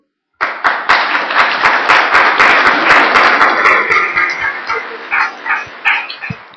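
Members at a municipal council meeting burst into loud applause, dense at first and then thinning into separate claps as it fades, with no talk over it.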